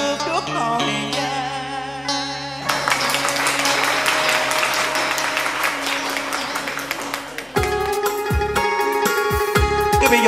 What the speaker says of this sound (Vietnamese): Quý vị vỗ tay lớn lên cho nó vui luôn đi.